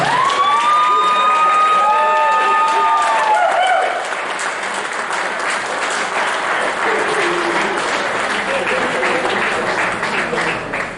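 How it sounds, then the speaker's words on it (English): At a rugby Hall of Fame presentation, a crowd bursts into loud clapping with high whoops and cheers early on, then settles into steady sustained applause. "Round of applause for our Hall of Fame."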